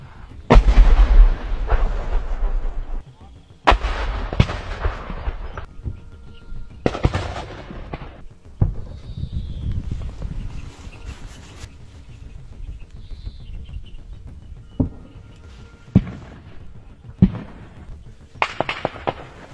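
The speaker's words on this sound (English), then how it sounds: "The Russians are continuously striking Ukrainian positions with drone operators and artillery units." Artillery fire striking Ukrainian positions: a series of loud, sharp booms spaced a few seconds apart, some heavy and close, others fainter and distant, with rumbling decay between impacts and no talk.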